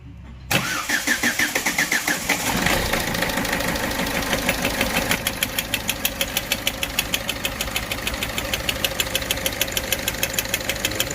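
A Ford Aspire engine is started after head work and timing belt replacement. It cranks briefly, catches, and settles into a loud, close idle with a steady rapid ticking rhythm. No one talks.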